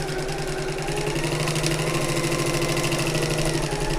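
A sewing machine stitches a tote bag seam at a steady, fast whir, its needle pulsing in a tight mechanical rhythm. It runs close and continuous, with no talk over it.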